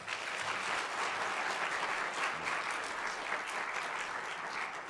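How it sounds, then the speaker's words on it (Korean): Korean church congregation clapping to welcome a preacher, a full, steady round of applause from many people, close and even for five seconds with no voices over it. "우리 박수 환영하겠습니다."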